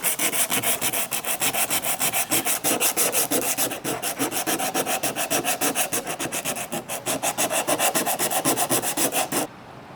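A hand file rasps across knife metal in a long, steady run of rapid, evenly spaced strokes, loud and close, while the blade is roughed up at a knife-making bench; no talking.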